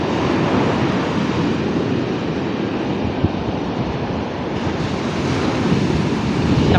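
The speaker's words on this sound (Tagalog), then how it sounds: "Sobrang laki ng alon." Loud, continuous roar of heavy surf close by, waves crashing and churning with wind buffeting the microphone.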